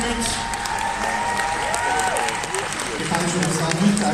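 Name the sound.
audience applauding the cosplay jury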